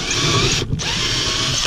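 A power drill whirs steadily close by as it bores into a boat hull while a trolling motor is installed, with a brief dip in the middle before the drilling resumes.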